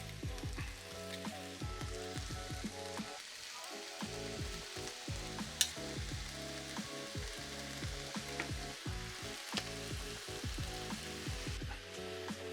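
Crushed garlic cloves sizzle in a hot frying pan, a steady close crackling fry with scattered pops and light stirring clatter, no voices.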